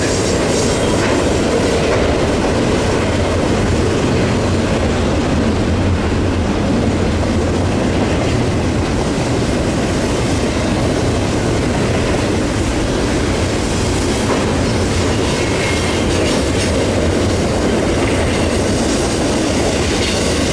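Eastbound CN 8810 and BC Rail 4653 locomotives lead an intermodal and autorack freight train rumbling past close by at Bayview Junction, Hamilton, with a steady roar and rhythmic clickety-clack of wheels on rails, no voices.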